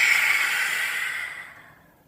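A long, breathy exhale in a yoga breathing exercise, a steady airy rush that starts strong and tapers gradually to silence over about two seconds, close and alone.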